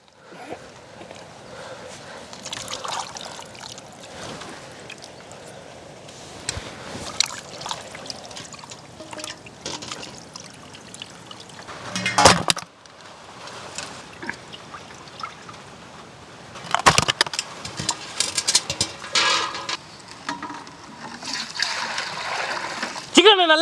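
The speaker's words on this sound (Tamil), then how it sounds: "சிக்கன் வாங்கி வச்சுருக்கேன் நல்லா அலசிப்போம்" Broiler chicken being rinsed by hand in water before being soaked in salt water, giving repeated splashing, pouring and trickling with sharp splash bursts, while a person talks over much of it.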